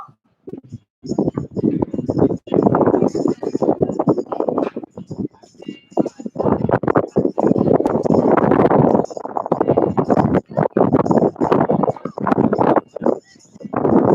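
Horse hooves clopping on the dirt of a college rodeo arena during tie-down roping at regional finals, with steady wind rumble over the microphone throughout the run.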